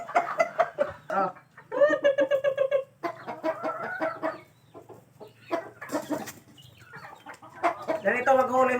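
A wary chicken clucks and squawks loudly in agitated bursts while being caught. Rapid flapping and scuffling break into the bursts, with short pauses between them, and a person's voice comes in briefly.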